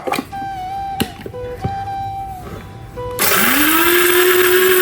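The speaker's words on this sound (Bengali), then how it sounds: "মরিচগুলো এখন ব্লেন্ড করে নিচ্ছি" Electric blender grinding chili peppers, a few short pulses and clicks at first, then a loud, steady whirring motor for the rest of the clip, close up.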